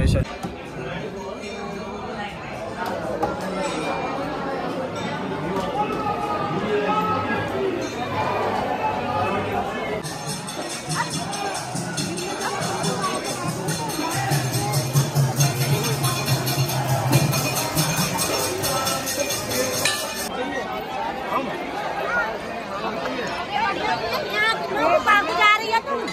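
A busy crowd during Holi, with dense babble and chatter that continues throughout, loud and close, mixed with louder nearby voices talking.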